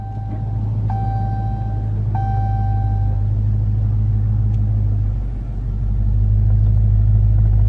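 Just after its start-stop button is pressed, a 2019 Dodge Charger R/T settles into a deep, steady idle rumble, close and continuous, while a few short electronic chimes ring out early on.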